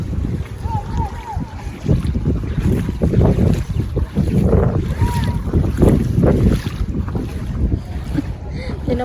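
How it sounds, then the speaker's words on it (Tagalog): Wind gusting steadily over open floodwater, a rough continuous roar with buffeting on the microphone, water lapping and distant voices of people swimming mixed underneath. "Mahangin pa."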